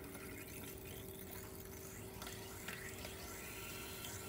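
Water flows in through a slowly opened valve to fill the sphere of an EcoCrystal 2 salt-free anti-scale water softener, a steady rushing hiss throughout with no talk.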